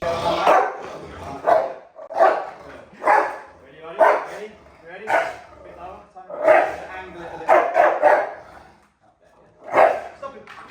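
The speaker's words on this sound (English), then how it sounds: "King, we gave him a bit of a break, and we brought out a 7-year-old female Rottweiler who is an ex-IGP dog" A 7-year-old female Rottweiler, a former IGP protection dog, barks in loud, close bursts spaced about a second apart, with a brief pause near the end.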